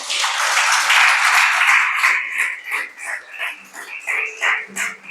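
A church congregation breaks into dense, loud applause that thins after a couple of seconds into scattered, rhythmic bursts of clapping.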